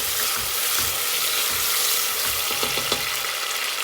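Chopped onions sizzle in hot oil inside a pressure cooker, a constant crackling hiss broken by several scraping stirs and light knocks of a spoon against the pot.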